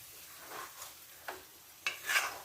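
Liver roast seasoned with pepper, stirred in a pan: a soft, quiet sizzle with a few scraping strokes of the spoon, the last ones louder.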